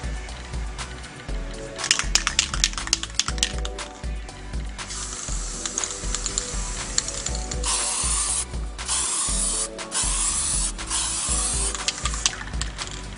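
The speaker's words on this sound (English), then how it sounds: "I'm going to use Plastikote Twist and Spray Primer" Plastikote Twist and Spray Primer hisses out of an aerosol can in steady, close sprays broken by short pauses, with faint rattles and clicks alongside.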